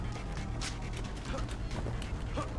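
Dogs in the video game Far Cry 4 whimper and pant in short bursts beneath a man's speech and game noise.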